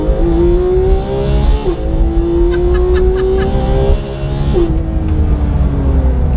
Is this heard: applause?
no